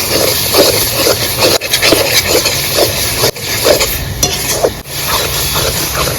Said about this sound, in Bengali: ভালো করে আমি কষিয়ে নিচ্ছি